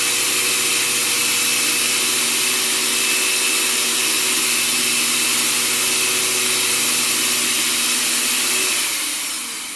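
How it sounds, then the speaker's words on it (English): A PHRESH ULV fogger with its blower switched on runs as a loud, steady electric motor drone with a constant hum and hiss, starting to wind down near the end. "But you're simply turn your blower on, your fogger."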